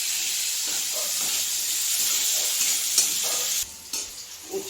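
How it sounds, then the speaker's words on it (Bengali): Bitter gourd stirred and fried in hot oil in a pan gives a steady, close sizzle with a soft steamy hiss, and a brief drop in level near the end as the stirring pauses. "এখন পটলের তরকারিটা আমি বানাবো না, এই তেলটাতে উচ্ছেটা নেড়ে নেবো।"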